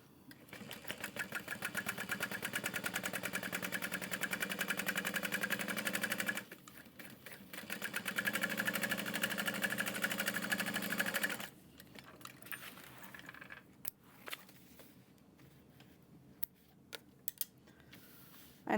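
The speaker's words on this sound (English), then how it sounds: "I'm just going to sew all the way across the bottom" A sewing machine stitches straight across the bottom of a handbag at about 1/8 inch, running in two steady bursts with a short pause between, then stopping, followed by quieter handling clicks and rustles.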